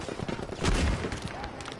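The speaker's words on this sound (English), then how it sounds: "Hey, yo, they're shooting at me." A short burst of gunfire rings out in the World War II shooter Battlefield V, a quick volley of overlapping shots with one heavier crack in the middle, moderately loud against a busy battlefield background.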